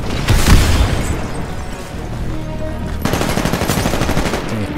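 Gunfire and explosions from the video game Titanfall: dense, loud automatic weapon bursts and heavy booms in continuous rapid rhythm, rumbling low end under rattling fire throughout.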